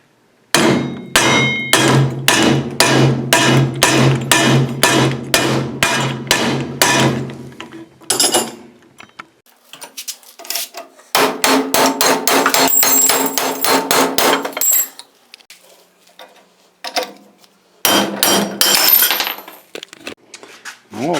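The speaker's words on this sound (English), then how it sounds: "I'm going to just tap it out the rest of the way." Rapid, ringing metallic hammer taps drive a pressed-in wheel bearing out of a steering knuckle held in a vise against a board, fired in fast bursts separated by short pauses.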